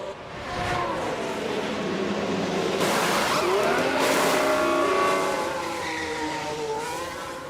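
An F1 race car from F1 Manager 2024 on the Baku circuit enters the pits, its engine whining loudly with shifting pitch and tire squeal, a steady close pass rising and then easing off.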